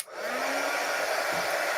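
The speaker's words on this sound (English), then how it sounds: "So I'm just using my heat gun." A steady, loud whoosh of a heat gun blowing air, continuous and unbroken with a broad hissing roar throughout.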